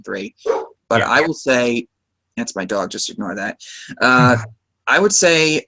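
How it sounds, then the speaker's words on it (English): A dog barks in short, loud bursts at home, mixed in with a person talking nearby, with brief pauses between the barks and the speech. "that's my dog. Just ignore that."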